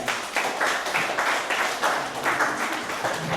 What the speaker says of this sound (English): Round of applause back to you.